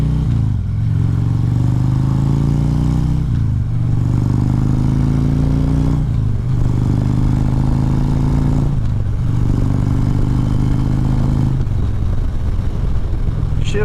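A 2014 Harley-Davidson Ultra Classic rumbles loudly and close throughout, its low engine note rising in repeated throttle pulls with brief dips between gear shifts, no talk over it.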